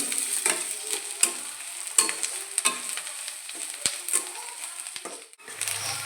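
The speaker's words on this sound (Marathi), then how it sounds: "कांदा मिरच्या आणि शेंगदाणे छान परतले" Onion, chillies and peanuts sautéing in a pan, a close steady sizzle punctuated by rhythmic scraping stirs and crunchy clatters of the spatula, no voices.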